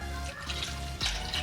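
Berry juice pours over frozen fruit in a popsicle mold, a steady close liquid trickle and splash lasting about a second and a half with a brief louder gush near the end.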